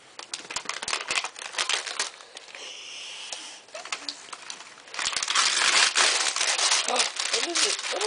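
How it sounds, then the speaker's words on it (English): Christmas wrapping paper is torn and crinkled on Christmas morning, with busy, crackling rips that grow louder and denser toward the end while people talk over it. "Rip all the paper."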